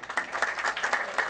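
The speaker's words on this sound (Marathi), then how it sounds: "एकदा जोरदार टाळी" Brief applause from an audience at an award and felicitation ceremony, a short burst of scattered, mid-distance hand claps.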